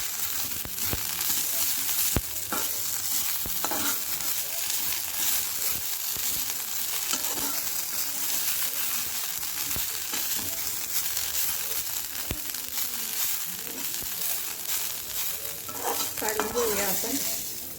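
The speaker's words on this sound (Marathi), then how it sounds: "कोथिंबीर सुद्धा अर्धा मिनिट आपण परतून घेणार आहोत।" Coriander leaves sauté in a pan with black masala for a rural drumstick curry, giving a steady loud sizzle with scraping stir strokes throughout and no talk.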